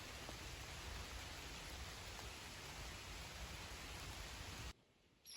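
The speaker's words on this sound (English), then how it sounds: "starting to rain now" Steady rain falls along the Appalachian Trail near the Eckville shelter, an even dense hiss that holds for several seconds before dropping off sharply.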